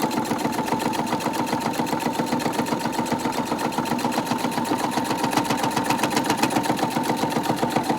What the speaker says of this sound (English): You're going to want to make sure you do a really good back stitch